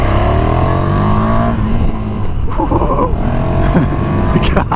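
A 2019 KTM 1290 Super Duke R motorcycle engine accelerates hard, loud and close, its pitch climbing through gear changes and falling back, with a brief exclaimed voice over the roar.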